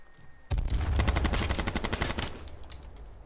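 Rapid automatic gunfire in the H1Z1 shooter erupts suddenly and loudly, a dense burst of closely spaced shots lasting about two seconds before tapering off, with no talking over it.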